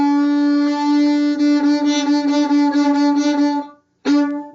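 A fiddle holds a steady, in-tune drone on two strings, a smooth, bright, continuous bowed tone with gentle bow pulses. It stops briefly, then the drone starts again, close and loud with no voices.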